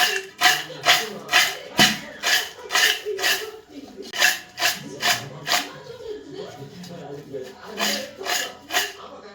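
Fried potato chips tossed with a spoon in a bowl with peanuts and curry leaves, a steady series of crisp scraping, rustling strokes repeating roughly every half second, fairly close.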